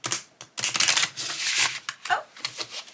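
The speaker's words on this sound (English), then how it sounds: "Let me do the shuffle." Oracle cards are shuffled by hand, producing quick papery riffles and flutters in bursts with short pauses, close and fairly quiet.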